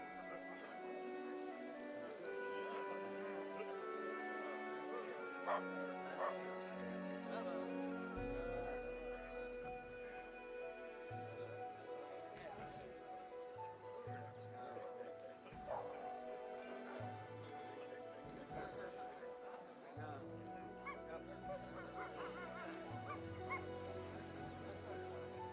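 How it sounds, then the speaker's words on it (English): Dogs bark and whimper at home, faint and off in the background, in scattered bursts under a low hum of other sound. "I was getting distracted by my dogs"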